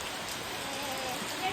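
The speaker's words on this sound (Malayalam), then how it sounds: "ഇതൊക്കെ ഇതാ നല്ല മഴയാണ്." Heavy rain pours steadily and densely onto surfaces around a flooded fish pond, a continuous close hiss with no break.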